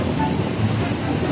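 Ocean waves wash onto a beach in a steady, loud roar of surf and rushing water, with wind buffeting the microphone throughout.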